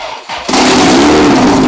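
A turbocharged 2ZZ-GE engine in a Toyota MR2 cranks briefly, then catches and fires into a loud, rough, close idle that holds steady to the end.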